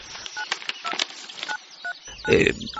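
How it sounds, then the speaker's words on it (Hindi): Touch-tone telephone keypad beeps as a number is dialed, a quick run of about a dozen short tones in uneven rhythm, close and clear, ending in a brief louder burst. "उस नंबर पर कॉल किया"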